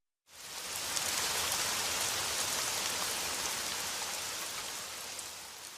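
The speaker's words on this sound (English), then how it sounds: "Oh no! It's raining!" Steady, dense rain pours down on surfaces, starting abruptly and continuing at an even, close, fairly loud hiss for several seconds with no voices over it.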